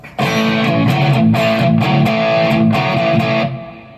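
Distorted electric guitar lead tone from a Deizel VH4-style amp model on a Line 6 POD Go, with blended delay and reverb, playing a rhythmic phrase of repeated notes for about three seconds before ringing out.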